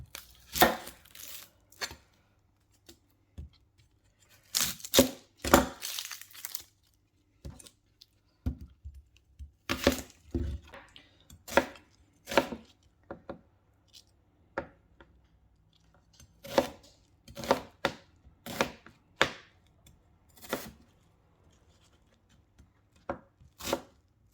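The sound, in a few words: knife chopping onion for beef casserole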